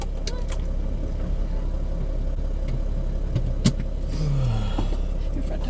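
A van grinds slowly along the rough dirt of Old Ore Road in Big Bend National Park, a steady close engine and road rumble with a single sharp jolt partway through.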